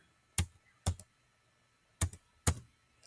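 Four sharp keystrokes land on a computer keyboard as a short command is typed, close up and crisp, with quiet pauses between them.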